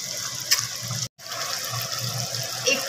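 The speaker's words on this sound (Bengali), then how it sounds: "এবার এর মধ্যে একটু গরম জল দিয়ে দেওয়া হলো, আবার কষানো হচ্ছে।" Hot water poured into a pan of mutton being sautéed with spices for mutton do pyaza, a steady close gushing and sizzling splash that runs on with a brief cut midway.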